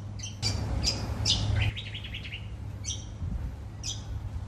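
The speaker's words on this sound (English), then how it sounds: "There's a really nice bird." Bright bird chirps and calls near a balcony at Howard Springs, several short bursts over a steady low outdoor hum, fairly close and clear with no talking.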